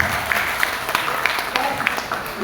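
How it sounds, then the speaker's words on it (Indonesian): Audience applause in a talk hall: a brief, steady patter of clapping from a moderately sized group, fairly close, with a few sharper individual claps standing out. "tepuk tangan untuk Bapak yang bertanya"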